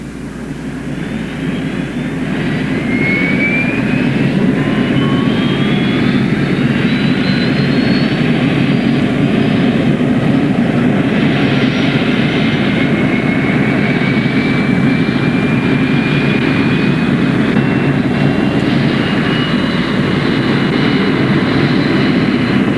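An aircraft engine drones loud and steady throughout, a helicopter carrying a helitorch for prescribed burning of California forest, with a slowly shifting whine riding over the continuous rumble.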